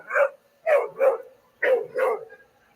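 A dog barks five times in quick uneven bursts, loud and fairly close, with a brief pause between the first bark and the next pairs. No one talks over it.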